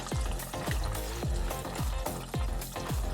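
Pieces of rabbit deep frying in a pot of oil give a close, continuous sizzle broken by repeated rhythmic bubbling bursts.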